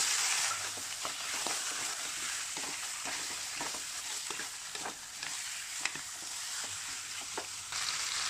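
Pork ribs stir-fry in oil with a pounded garlic, coriander root and pepper paste, a steady close sizzle broken by repeated scraping strokes of a spatula in the pan.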